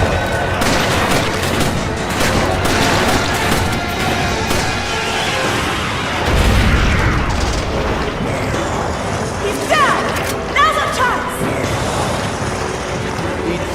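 Gunshots in Resident Evil 5 crack repeatedly amid loud, dense game noise, with people talking over the action.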